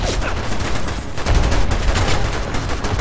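Dense, loud bursts of gunfire from a sniper in the Ghost in the Shell video game, overlapping shots and impacts crowding together into a continuous barrage with no pauses.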